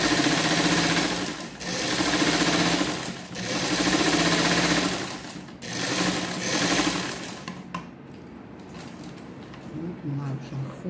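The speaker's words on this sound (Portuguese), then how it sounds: "Vou bater com outra costura aqui." A sewing machine runs in long steady bursts as it stitches the seam of a small Easter gift bag, pausing briefly between runs, then slowing to quieter intermittent stitching near the end.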